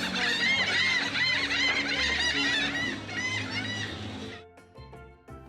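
A dense chorus of bird calls at a waterside restaurant in St. Thomas, US Virgin Islands, chattering and squawking together loudly, cutting off abruptly near the end with a few scattered calls after.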